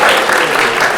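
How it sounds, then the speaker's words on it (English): Audience applause at a live comedy game show at a fan expo, a dense, loud wash of clapping from a crowd, sustained through the whole moment. "give yourselves a round of applause for coming and supporting local comedy"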